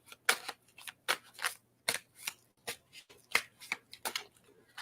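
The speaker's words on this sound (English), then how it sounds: "All right, so let's do this as I'm shuffling." Tarot cards are shuffled by hand up close, giving quick sharp riffling snaps in irregular bursts with short pauses between them.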